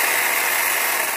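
A battery-powered chainsaw runs steadily, giving a close, continuous high whirring drone with no pauses.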